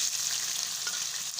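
Two chopped onions frying in about three spoons of hot oil, a brief steady hiss with faint crackles, close and even.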